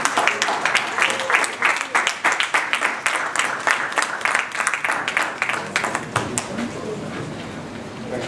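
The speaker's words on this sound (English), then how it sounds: "With a very big round of applause" A crowd claps steadily, a dense patter of many hands that gradually thins and fades toward the end.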